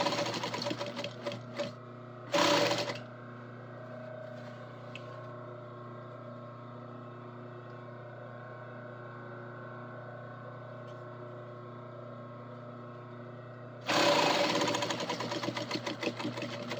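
A new sewing machine stitches a zigzag seam in a steady, continuous mechanical whir lasting most of the stretch, with short louder bursts of clatter at the start and end; no one talks.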